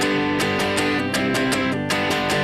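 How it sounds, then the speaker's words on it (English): An electric guitar strums a barred chord in a steady rhythmic pattern, each stroke ringing full and bright, played loud and close with no talking. "if I just barred the chord and played what my right hand is doing, it would sound like this."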